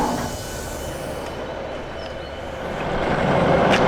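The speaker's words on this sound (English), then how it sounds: "We will shortly be arriving at Reddish South." A passenger train slows into Reddish South station, a steady interior rumble of wheels and motor that swells louder near the end, with no talking.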